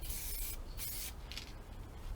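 Spray paint hisses outdoors onto a handmade guitar body in a few close bursts, each lasting about half a second, separated by short quiet gaps.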